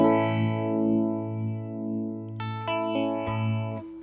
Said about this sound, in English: Let's try it with the phaser. Start with that speed in the middle, and just constant phaser.